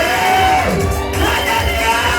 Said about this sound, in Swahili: Shangwe na vigelegele.